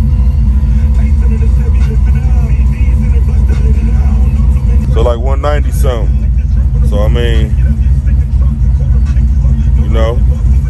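A Chevy box car idling, a steady low engine rumble running throughout, loud and close, with someone talking over it partway through.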